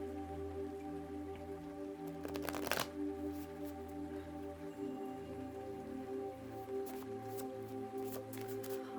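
A homemade tarot card deck being shuffled by hand: soft, quiet riffling and patting of cards, with a brief louder burst of flicking near the start, heard close up with no talking.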